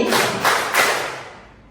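Students in a classroom clap in unison three times, evenly spaced sharp bursts of many hands. A roomy echo lingers and fades after the last clap.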